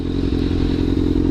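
A motorcycle rolls over gravel, its steady engine drone under a close, continuous crunching and clatter of stones, loud and without a break.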